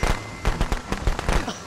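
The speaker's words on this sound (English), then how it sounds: "I threw down firecrackers and I hit him instead of you" Firecrackers thrown in Friday the 13th: The Game pop in a rapid, uneven string of sharp crackling bursts, loud and close throughout.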